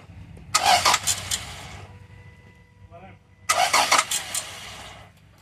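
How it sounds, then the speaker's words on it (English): A Toyota Tacoma engine cranks and catches twice, each start a loud burst of whirring and sputter lasting over a second, separated by a quieter pause with faint background noise. "Then we turned on the engine and the bolt loosened."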